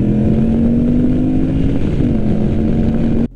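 A 2019 Moto Guzzi V85 TT motorcycle riding, a loud steady engine drone with a brief pitch dip at a gear shift, then an abrupt cut at the end.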